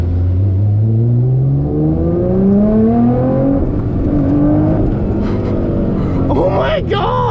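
A 2012 Nissan GT-R accelerating hard in race mode, its engine note climbing through rising gears with shifts between, heard from inside under excited voices talking loudly.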